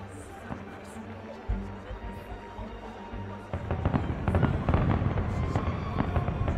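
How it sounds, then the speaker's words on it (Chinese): Fireworks at an event in the video game Assassin's Creed Unity pop and crackle, sparse early bursts swelling into a dense, continuous volley of bangs and crackling, with the background music of the game underneath. "我要欣赏这美丽的烟火"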